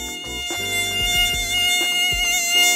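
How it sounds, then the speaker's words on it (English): A mosquito's rapidly beating wings make a high, ringing whine that holds steady and loud throughout, with no voices. "It got its name because of the characteristic sound, which occurs due to the high frequency of wing beats"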